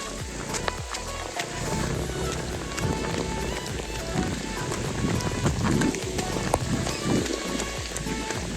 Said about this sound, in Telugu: ఫుల్ వర్షం పడుతుంది ఇక్కడ